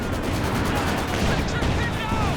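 Continuous booming gunfire and explosions from an infantry support gun barrage in the video game Company of Heroes 2, a dense rumbling battle din with faint voices over it.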